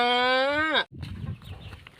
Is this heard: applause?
no